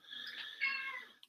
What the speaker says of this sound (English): So my cat is hanging out. So if you hear him in the background